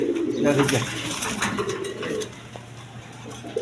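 Indian Bombay pigeons coo softly and repeatedly nearby, a low, throaty rolling call, with a few light clinks and a faint voice in the background.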